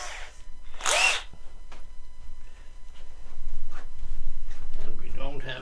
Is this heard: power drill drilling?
yes